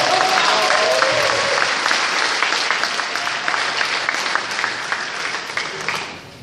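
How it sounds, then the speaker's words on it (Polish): Steady applause from a crowd at a Wiosna party political convention in Białystok, a dense clatter of clapping that stays loud for several seconds and tapers slightly toward the end. "Jan Kaniewski, wielkie brawa"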